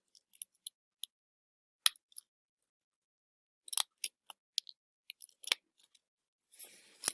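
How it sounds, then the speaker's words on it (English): Scissors snip paper while a poinsettia and snowflake are cut out, giving short crisp cuts in irregular bursts separated by brief pauses, close and clear against silence. "I can cut some little things on the sides here"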